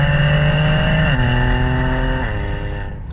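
Loud BMW G80 M3 fitted with a full Capristo exhaust, heard from inside the car, droning steadily with two distinct pitch drops as the gears change, then easing off near the end.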